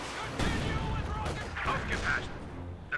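Rockets and mortar rounds pound a T-34 tank in a Company of Heroes 2 match, a dense run of booms and gunfire bursts rolling on without a break at moderate loudness.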